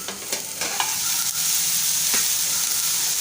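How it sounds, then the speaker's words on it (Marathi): Cauliflower curry sizzles and fries in a pan while being stirred, a continuous bright hiss broken by a few scraping strokes of a spoon, close and without talk. "थोडंसं परतून घेऊया"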